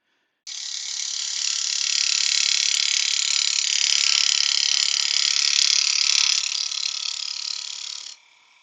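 A steady, loud rasping whir of a natural edge wooden bowl turning on a lathe, with a continuous chattering buzz as the cutting tool crosses the gap between two pieces, running several seconds before stopping abruptly.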